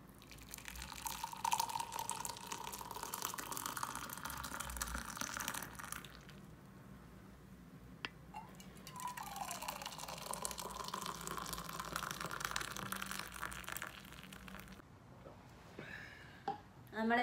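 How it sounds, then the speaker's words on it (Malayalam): Freshly boiled liquid is poured into a flask at home, giving a long, soft running and splashing trickle that briefly pauses midway before resuming, with faint background sounds. "ചൂടോളം തിളപ്പിച്ചിട്ട് ഈ ഫ്ലാസ്കിലോട്ട് ഒഴിച്ചു വെക്കും"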